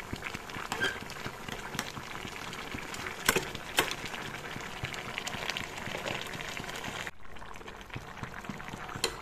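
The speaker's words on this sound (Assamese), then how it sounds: "সেইখিনি এতিয়া উতলিবলৈ দিম প্ৰায় 10 মিনিট সময়।" Fish and bottle gourd curry with sesame, ginger and garlic simmers in a pan with a steady bubbling patter, a few sharper pops standing out, and the sound drops away near the end.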